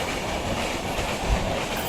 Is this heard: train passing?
yes